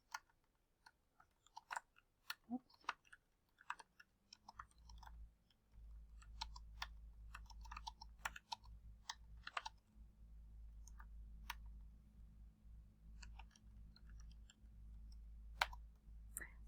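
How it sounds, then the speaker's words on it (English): Quiet, irregular clicks of typing on a computer keyboard come in scattered bursts, with a low steady hum entering partway through and no talking. "I'll type some student-facing directions right here"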